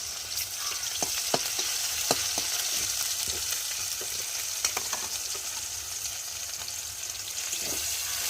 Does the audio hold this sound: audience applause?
no